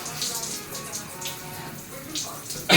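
Cold tap water pours and splashes during a bath, a steady wet spray with a few louder splashes, ending in a sudden loud gush close by.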